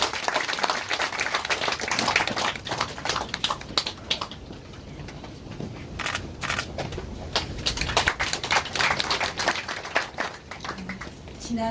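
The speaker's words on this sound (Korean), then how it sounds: "여러분 박수로 맞이해주시면 고맙겠습니다" An audience at a formal memorial-society event claps to welcome a speaker, a scattered, uneven patter of hands that comes and goes in bursts with some murmuring mixed in.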